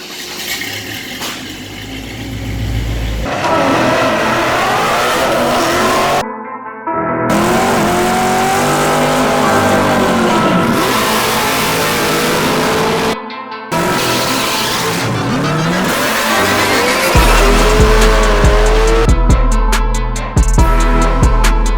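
A truck engine with a newly installed exhaust revs loudly and close in repeated rising and falling bursts, broken by a few brief silent cuts, with a deep steady rumble toward the end.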